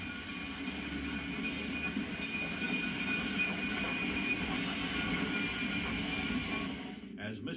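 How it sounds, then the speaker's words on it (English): Trains arriving at Dayton Union Station rumble steadily at a moderate distance, a continuous rolling roar with a faint high whine, fading slightly near the end. "Now back at Dayton Union Station, westbound trains arrive"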